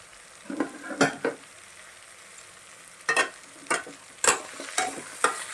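Black nightshade greens (manathakkali keerai) sautéed in a pan: soft sizzling broken by several short bursts of stirring and scraping, spaced irregularly through the clip, with no one speaking.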